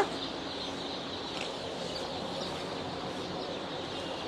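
Many hybrid chicken chicks peep faintly in a constant, dense chorus of high chirps, steady throughout with no talking.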